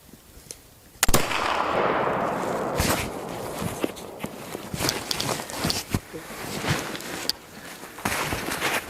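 A flintlock rifle fires at a buck on a snowy public-land hunt, one loud nearby shot with a long rumbling decay across the open air, followed by crunching footsteps and movement in the snow.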